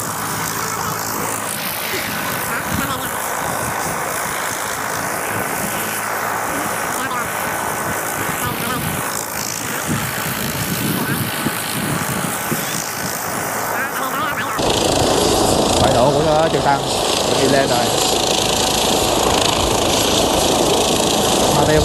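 A helicopter arrives at a ship to collect marine pilots from the deck, a broad, steady engine and rotor roar that grows louder and harsher partway through, with voices talking over it.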